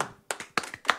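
A few hands clap during a live broadcast, sparse sharp claps at an uneven rhythm, faint and close, with no talking.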